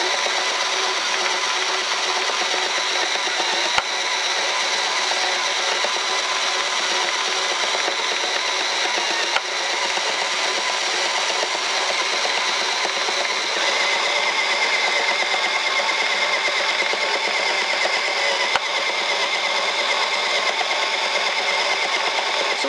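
A circular knitting machine cranked by an electric screwdriver attachment makes a continuous whirring, mechanical drone that stays steady and close for the whole stretch, broken only by a few faint clicks, with no voices.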